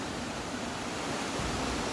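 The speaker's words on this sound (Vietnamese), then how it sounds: "thác nước thì vẫn đổ như vậy, rất là đẹp" A mountain waterfall at Trúc Vinh pouring steadily in misty high country, a dense continuous roar of falling water with no other sounds.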